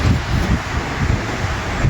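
A continuous low rumbling gust of wind buffeting the microphone, loud and steady with slight surges, no voices.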